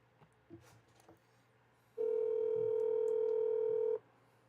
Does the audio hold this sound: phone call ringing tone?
yes